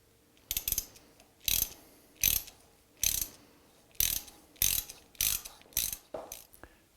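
Hand tapping drilled holes with an M6 x 1.0 bottom tap, about nine short ratcheting clicks in a steady rhythm, close and fairly faint against a quiet background.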